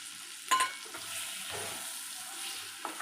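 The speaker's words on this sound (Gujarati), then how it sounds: "અને થોડીવાર આપણે તેલમાં સાંતળવા દઈશું." Stuffed gunda (besan-filled, Kathiyawadi style) with leftover masala sautéing in oil, giving a soft steady sizzle with a few brief stirring clinks near the start and end.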